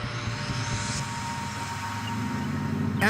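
Steady, loud piston aero-engine drone from a Spitfire aircraft flying a landing and takeoff circuit, sustained for the whole stretch with little change in level.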